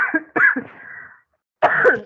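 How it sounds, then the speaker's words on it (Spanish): Several harsh coughs in quick bursts from a person who has had a cough for days, a pause of near silence, then another cough burst, close and fairly loud. "Perdón, he tenido tos hace días."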